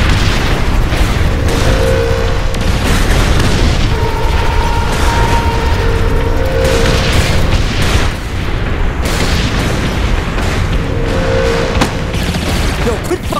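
Bombs explode in Saints Row IV, a loud, continuous rumble of booming blasts and crackling debris that fills the whole stretch, with brief tonal game sounds layered over it.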